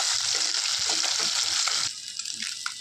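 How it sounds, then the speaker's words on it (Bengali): Small puti fish crisp up in hot oil, giving a close, constant sizzle with light popping that drops to a quieter hiss for the last second. "মাছগুলোকে ভালো করে কড়া করে একটু ভেজে নেব।"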